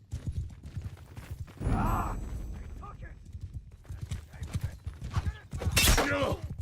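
Cavalry hooves clop in a steady, fast rhythm during a Mount & Blade II: Bannerlord skirmish battle, mixed with clashing weapon hits and a burst of impact noise, while commentators talk over the action.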